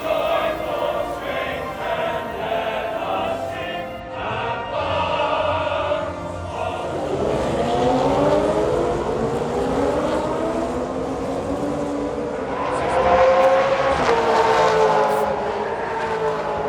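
Race cars at the start of the Bathurst 1000 roar past in a loud, sustained engine blare with rising and falling pitch sweeps as cars pass, and the noise swells again near the end.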